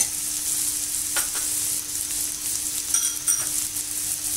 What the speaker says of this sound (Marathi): त्याच्यात आपण मशरूम टाकून घेतोय आणि नीट मिक्स करतो